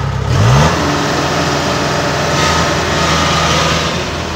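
A Kubota DC70G combine harvester's engine runs steadily and loudly up close, with a brief rising rev at the start before settling into a constant mechanical drone.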